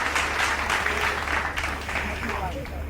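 Applause at an architecture and design awards ceremony, a crowd clapping steadily throughout under a low background hum, with a voice speaking over it.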